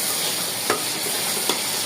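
Masala being fried down in oil for a fish-roe dish, with a steady close sizzle and two brief stirring scrapes, no talk.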